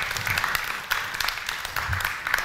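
An audience claps for a speaker at a health talk on physical activity for Pink October, a brief, uneven burst of hand claps with a few sharper individual claps standing out.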